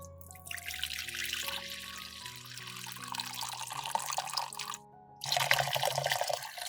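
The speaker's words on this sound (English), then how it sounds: "After sterilization, pour out this water." Water pours and splashes out of a sterilized jar in a steady trickling stream, stopping briefly before a second, stronger pour.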